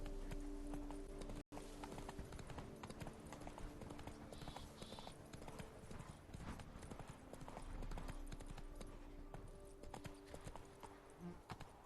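Hooves of a horse galloping steadily in The Witcher 3: Blood and Wine, a continuous clip-clop rhythm close up under game music, with a brief dropout early on.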